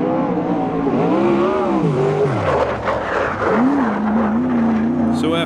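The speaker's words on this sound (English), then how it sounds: "There's just nothing in the world like the sound of a race car." Sprint race cars circle a dirt track, engines rising and falling in pitch as they pass and rev, loud and continuous, with a voice talking underneath.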